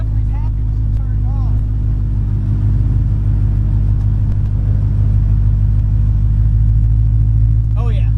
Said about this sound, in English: So let's do this cold start. Let's see how it boot sounds.